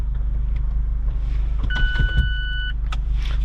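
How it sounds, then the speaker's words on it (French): A 2019 Mazda MX-5 ND2 RF fitted with a BBR exhaust idles with a steady low rumble while its retractable hardtop roof opens, a thin motorised whine running for about a second midway with faint mechanical clicks. "Donc là, je vais décapoter."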